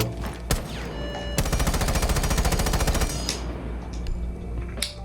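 Rapid automatic rifle fire from the operator Ace in Rainbow Six Siege, a dense burst of evenly spaced shots lasting about two seconds between scattered single cracks, loud and close with no talking.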